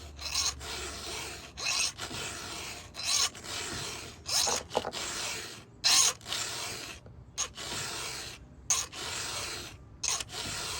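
A chainsaw chain being sharpened with a hand file, a series of close, harsh rasping strokes in an uneven rhythm, separated by short pauses, with no talking.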